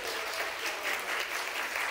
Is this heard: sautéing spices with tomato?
no